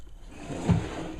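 A small drawer in a 2013 Keystone Passport 2910BH camper slides open or shut with a short, soft thud midway, followed by a brief light scrape at the end, close and quiet, with no speech.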